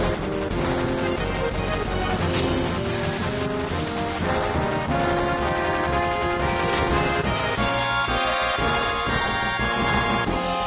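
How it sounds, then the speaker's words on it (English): Rapid gunfire rattling over dense, loud music and ambience in Final Fantasy VII, the shots blending into a busy, continuous wash with no clear separate reports. "Gunfire?"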